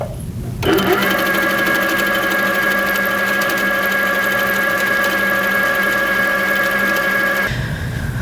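An HQ Sweet Sixteen sit-down longarm quilting machine stitching loops runs at a steady, loud, even whir after a brief start, then stops near the end.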